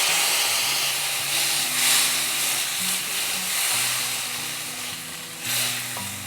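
Steady hissing sizzle of about two tablespoons of water hitting a hot pan of corn, with a continuous steamy wash and faint low hum underneath, fairly close.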